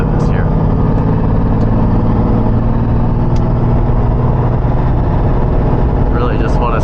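A Lamborghini Diablo engine drones steadily under light throttle on a road drive, a loud, continuous low rumble with wind noise heard from inside the car, no hard revving.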